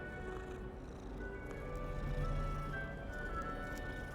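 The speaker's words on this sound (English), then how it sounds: "What a silly little kitty." A cat in Hogwarts Legacy makes soft purring and squishy murmurs beneath game ambience, fairly faint and close, with a short low purr swelling in the middle.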